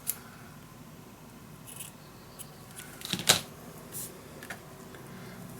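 Scissors cut through lace trimming on a baby mini scrapbook album, soft scattered snips and rustling close by with one sharper cut in the middle, quiet between strokes.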